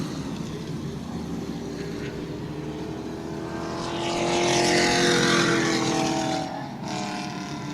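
Sportsman race cars roar around New Smyrna Speedway, a loud sustained engine drone that swells as the pack passes close by mid-clip, then eases back to a steady hum.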